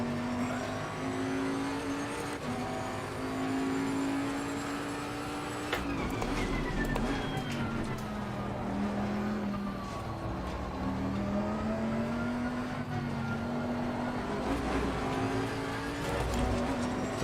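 A race car engine drones and whines at Oulton Park in the sim racing game Assetto Corsa Competizione, rising and falling in pitch through acceleration with an abrupt gear change partway, steady and up front with no talking.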